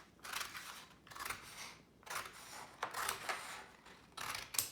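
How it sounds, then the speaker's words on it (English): Scissors cutting along a line through construction paper, several close snipping and rustling strokes in a steady rhythm. "we're going to cut that piece of construction paper along that line"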